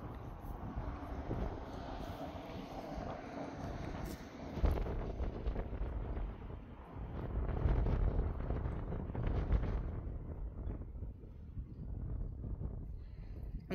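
Steady gusty wind buffeting outdoors near Gunlock Falls, a broad continuous rumble with stronger surges partway through, heard alone without talk.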